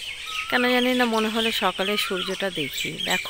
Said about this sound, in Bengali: কত পাখির আওয়াজ।